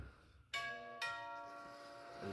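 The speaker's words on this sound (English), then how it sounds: "Let's hear the Edwards long chime." An Edwards long chime doorbell rings two struck tones about half a second apart, each leaving a long, clear, ringing sustain that fades slowly across the rest of the clip, loud and close with no talk.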